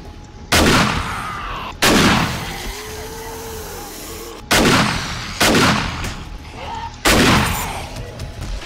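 Five loud, heavy gunshots boom one at a time at irregular intervals during a horde night in 7 Days to Die, each with a sharp crack and a long decaying tail, close and dominant over faint background noise.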